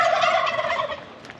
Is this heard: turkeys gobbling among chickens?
yes